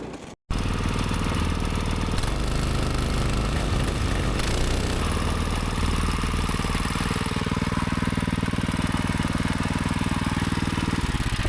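A small vehicle engine with a CVT drive runs close and loud, a steady rough droning rumble that holds constant throughout.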